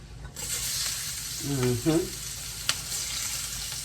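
Onions added to seasoned meat browning in a pan sizzle steadily up close, with a brief murmuring voice partway through.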